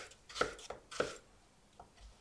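A knife chops an apple into small cubes, with a few distinct crisp cuts landing separately and close, fairly quiet, with no talking.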